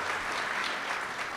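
A crowd applauds, dense overlapping claps forming a steady wash of sound for a moment.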